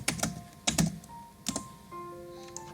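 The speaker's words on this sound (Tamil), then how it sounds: "Google Chrome ஓபன் பண்ணதுக்கு அப்புறம் Spotify ன்னு டைப் பண்ணுங்க." Keys on a computer keyboard are tapped in a few separate clicks and short bursts, close and distinct, with a faint steady tone underneath.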